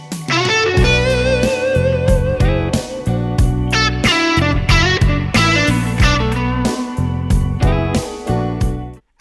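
Distorted electric guitar plays a solo of evenly picked notes that move stepwise up and down in a steady run, loud and close, with no talking.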